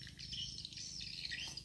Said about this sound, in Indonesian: Banyak sekali burung.